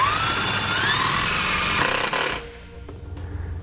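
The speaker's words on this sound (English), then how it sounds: "I'm going to drive the screw right into the bottom of the frame here" A 5/16 nut driver runs a self-tapping screw into the bottom of a steel trailer-hitch frame, a steady loud whirring grind that stops abruptly partway through, leaving quieter clicks and handling noise.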